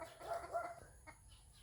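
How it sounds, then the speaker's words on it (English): A chicken clucks briefly at a remote rural property on Cebu Island, a short faint burst over a quiet outdoor background. "there's a chicken now"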